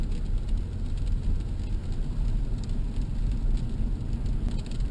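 Steady rain falls with a continuous, even hiss and low rumble, no voices, unchanging throughout.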